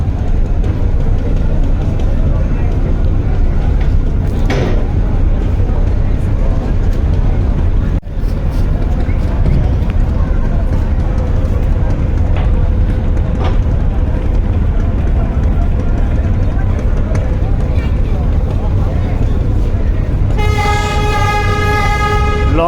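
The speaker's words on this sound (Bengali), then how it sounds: "এই সেট থেকে কুয়াকাটা দুই সেও কিন্তু ব্যাক গিয়ার দিয়ে দিল" Passenger launch Kuakata 2 reversing at the crowded Barisal river launch terminal at night, a steady loud engine rumble with a long deep horn blast toward the end, amid busy terminal noise.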